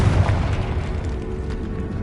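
A Confringo spell explodes in Hogwarts Legacy as a deep, booming blast that rolls and fades into a low rumble across the whole moment.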